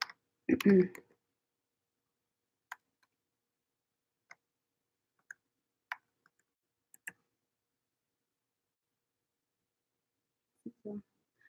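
Sparse, quiet keystrokes on a computer keyboard, single taps spaced a second or more apart in a silent room, with a brief voice or noise burst near the start and end.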